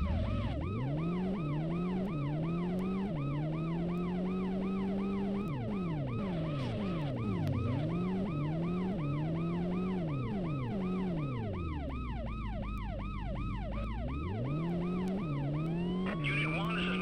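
Police and ambulance sirens from the video game World's Scariest Police Chases, loud wailing and yelping tones that rise and fall, overlap, and shift patterns continuously over engine noise.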